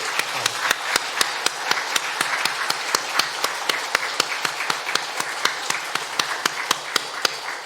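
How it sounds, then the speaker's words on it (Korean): A church congregation claps steadily for the choir at a Sunday service. The applause is loud, dense and sustained, with sharp individual claps standing out throughout. "다시 한번 박수하겠습니다"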